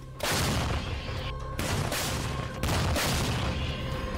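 Ukrainian howitzer artillery fire in wartime, loud booming blasts that rise sharply and ring out in heavy rumbling rolls, two big bursts with a brief dip between.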